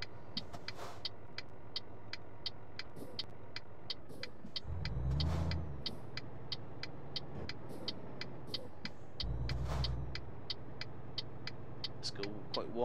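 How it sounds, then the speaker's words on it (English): A truck driven in Euro Truck Simulator 2 on the Going East route, with a steady engine drone, two swells of heavier low rumble as it accelerates, and a regular ticking indicator clicking over it. "actually sounds like driving a truck"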